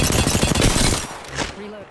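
Rapid automatic gunfire from an attacking enemy squad in Apex Legends, dense and loud bursts for about a second before thinning out, with voices calling out over the shooting.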